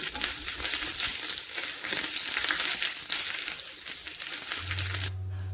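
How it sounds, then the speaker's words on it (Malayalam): Mustard seeds spluttering in hot oil in a wok-like pan, with curry leaves and dried red chillies added, dense crackling pops over a frying hiss, close and busy, then cutting off to a low hum. "ഒരു ചീനിച്ചട്ടിയിലേക്ക് എണ്ണ ഒഴിച്ച് കടുക് പൊട്ടുമ്പോൾ കറിവേപ്പില, വറ്റൽമുളക് ഇട്ട് മൂപ്പിച്ച്"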